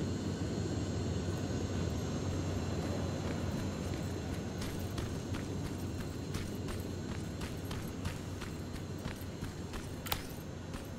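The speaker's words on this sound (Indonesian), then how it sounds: "Di atas juga ada pesawat yang terbang-terbang nih." An aircraft flies overhead in the video game Terminator Resistance, a faint, steady droning rumble broken by scattered light clicks and taps.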